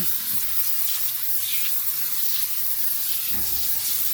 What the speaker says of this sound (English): I'm going to take this Neburia foaming sprayer here. I've got Adams wheel and tire cleaner in here and spray this down.